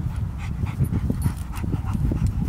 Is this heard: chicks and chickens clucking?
no